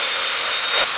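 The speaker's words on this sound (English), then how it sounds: "Get the table saw going. Chop saw." A chop saw runs from an EcoFlow Delta Pro Ultra portable power station, giving off a close, loud, steady whining roar for a brief moment with no voices.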